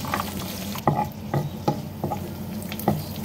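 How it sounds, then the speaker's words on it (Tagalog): Cashew nuts fry in a little oil in a pan with a soft continuous sizzle, broken by several distinct scraping knocks as they are stirred around. "Fry po muna natin ang ating cashew nut. Fry natin hanggang mag-brown guys."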